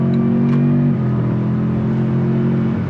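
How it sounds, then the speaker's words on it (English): A Toyota Tundra Hybrid pickup with a twin-turbo V6 and 10-speed transmission accelerates hard, a steady droning engine note with a slight shift in pitch midway, heard from inside the cab. "What's cool about it is you can hear the turbos. It's a twin turbo V6"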